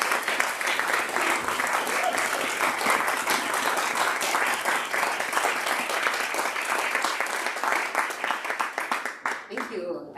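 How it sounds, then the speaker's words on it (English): A church congregation at a Sunday service breaks into sustained applause, a dense, steady wash of many hands clapping that runs for about nine seconds before thinning and fading out. "I've never been to a congregation that claps before."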